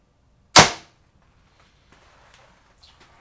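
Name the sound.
PSE Altera XS compound bow shooting arrows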